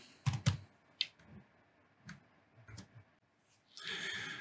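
Someone types a verification code on a computer keyboard while registering an online government account. A handful of sparse, faint key clicks are spread out with pauses between them, then a soft hiss of background noise follows.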